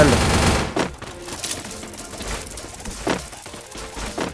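Rapid automatic gunfire in an online shooter video game, sustained and loud, with a voice talking over the bursts.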